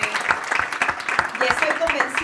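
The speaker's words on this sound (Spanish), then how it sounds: "gracias María Belén, José María, Ignacio, un aplauso, por favor." Applause from an audience at a European–Latin American investigative journalism conference, a moderately loud burst of clapping with voices and chatter mixed in across the short stretch.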